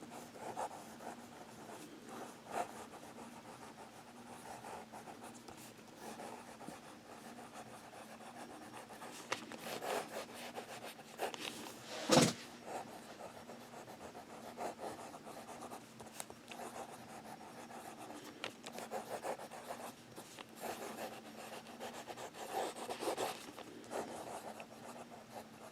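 A Kaweco fountain pen nib writing on paper: soft, faint scratching strokes and swirls with irregular rhythm, one sharper scrape midway, recorded close in a quiet room.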